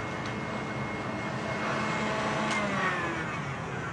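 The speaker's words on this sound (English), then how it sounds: "beat them in the mixer" An electric mixer beats six eggs with a continuous, even motor whir and a faint rising whine, close and steady throughout, with no talk.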